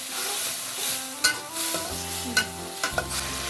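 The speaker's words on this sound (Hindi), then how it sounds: "1 कप आपने टमाटो केचप शामिल कर देना और इसको मिक्स कर लेना है" A spoon stirs tomato ketchup into pasta sauce in a pan, with soft scraping and faint sizzling, plus a few sharp clinks of the utensil against the pan, close and alone.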